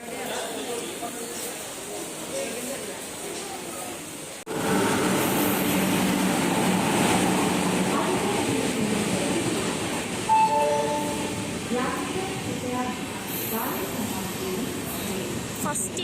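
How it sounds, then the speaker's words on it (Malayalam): The Okha–Ernakulam Express, hauled by a WAP-7 electric locomotive, pulls into a railway station. A quieter platform ambience abruptly gives way to a loud, sustained rumble and roar of the passing train, with clattering coaches and faint voices nearby. "ട്രെയിൻ വന്നിട്ടുണ്ട്, ഇപ്പോൾ വരാറായിട്ട് ട്രെയിൻ വന്നിട്ട് ബാക്കി കാണാം."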